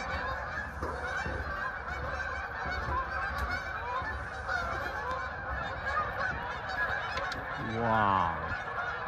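A large flock of geese honks continuously over water at the end of the sailing season, a busy chorus of overlapping calls, with one louder, closer honk standing out near the end.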